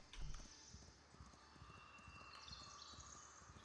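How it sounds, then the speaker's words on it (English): A horse's hooves clip-clop faintly in a steady patter within the medieval building game Riverarch, set against a soft ambient background. "There's a horse somewhere."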